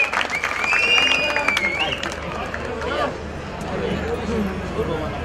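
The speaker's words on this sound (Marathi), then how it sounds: "टाळ्या वाजवून या ठिकाणी त्यांचं आपण स्वागत करायचंय" Crowd applause at an election rally in Saswad welcoming independent candidate Sambhajirao Zende, a broad steady wash of clapping from a large audience, with some crowd voices and a whistle-like tone early on.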